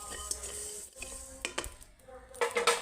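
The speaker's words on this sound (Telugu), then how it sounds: "ఓ చెంచా జీలకర్ర ఇది దోర దోరగా" Cumin seeds roasting in a hot pan with mustard seeds for a coconut-milk fish curry: steady close sizzling and crackling, with scattered stirring clinks against the pan and no talk.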